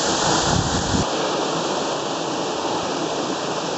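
Ōtaki waterfall on a mountain trail, a loud steady roar of falling water filling the whole clip close by, with continuous broadband rush and a brief gust of wind near the start.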